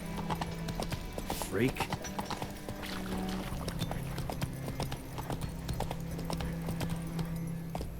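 Hooves of Roach, Geralt's horse in The Witcher 3 on PS5, drum steadily at a gallop, close and clear, while a brief whinny and a short spoken word cut in over the rhythm.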